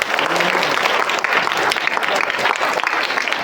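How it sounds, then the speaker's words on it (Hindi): A crowd of schoolchildren claps loudly and continuously at a school event, a thick, energetic roar of hands with no pause throughout. "एक बार जोर से ताली बजाओ मेरे लिए।"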